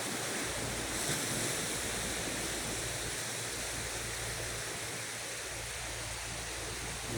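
Continuous roar of ocean surf, broad and steady with wind noise buffeting the microphone throughout, no distinct voices.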